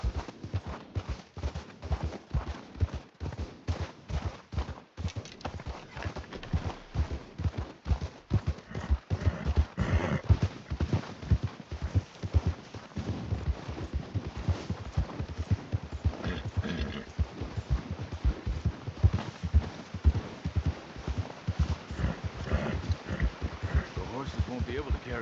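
Horse hooves clip-clop in a steady rhythm in the video game Red Dead Redemption, with people talking over the clopping and faint whooshing in the background.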